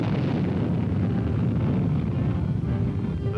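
Honest John, a 3-ton medium-range Army field artillery rocket, roars at launch with a steady, loud, dense rumble that holds for the full length without a pause.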